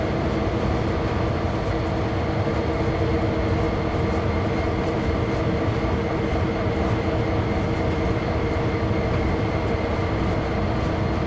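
A mixed freight train passing near Hesperia, its steady, loud rumble and rolling wagon noise holding constant throughout without a break or any voice.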